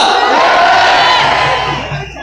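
Nighttime political rally crowd in front of the Blue House roaring and cheering in a brief loud burst that fades at the end.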